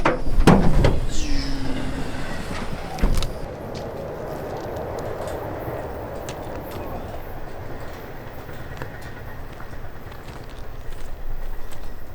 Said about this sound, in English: The trains are coming.